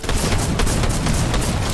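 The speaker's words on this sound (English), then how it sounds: "The machine pistol is in the game" Machine pistol fire in the video game Fortnite: a dense, loud, continuous burst of rapid gunshots with booming impacts, close and unbroken throughout.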